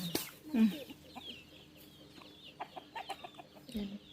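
Backyard chickens clucking softly nearby on a dry-season farm, a louder cluck early on followed by a scattering of quieter, irregular clucks and faint rustling.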